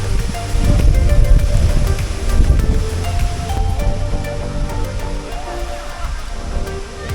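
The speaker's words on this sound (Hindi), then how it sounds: "वाटरफॉल की कांस्टेंट मोशन को मैं बस देख ही जा रही थी।" A waterfall in Meghalaya, a steady, loud, broadband rush of falling water that continues without a break throughout.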